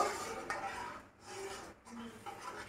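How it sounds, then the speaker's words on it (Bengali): A spoon stirring fish curry in a pan, soft scraping and rubbing strokes in several passes with brief pauses between them, close and quiet. "এবার আমি এটাকে ভালো করে একটু নাড়িয়ে একটু জলটাকে ফুটিয়ে নেব"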